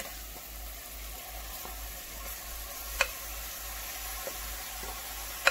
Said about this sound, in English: we're gonna add our mushroom mixture to the pot